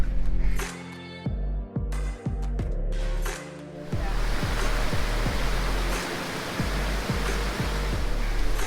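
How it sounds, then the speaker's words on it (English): Waterfalls at Plitvice Lakes, Croatia, pour as a continuous loud broadband rush, with low rhythmic thumps and knocks layered over the roar throughout. "There's just waterfalls everywhere you look."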